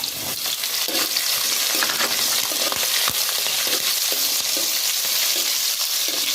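Five green chillies fry in oil in a pan for a lime pickle, with a steady close sizzle and repeated scraping and stirring clatter of a spoon against the pan.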